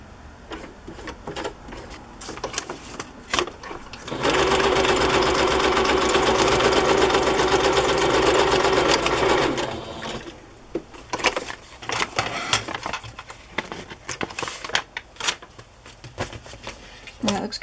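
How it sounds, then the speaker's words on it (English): A sewing machine runs continuously for about six seconds, stitching across a fabric pocket with a steady, close, whirring drone, framed by quieter handling clatter and brief spoken remarks before and after. "I'm gonna sew across it here."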